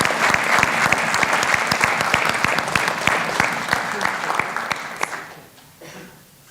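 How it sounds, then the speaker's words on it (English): An audience at a community engagement appreciation celebration applauds departing board and commission members, a dense sustained clapping that tapers off after about five seconds with a few voices underneath. "let's have a round of applause for all of our departing board and commission members"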